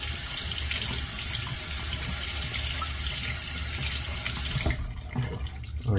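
Tap water runs steadily and loudly into a sink as a shaving brush with a 26 millimeter knot is wetted, then the flow stops abruptly, leaving faint drips and handling sounds.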